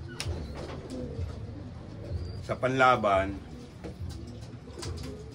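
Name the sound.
bird calling at breeding loft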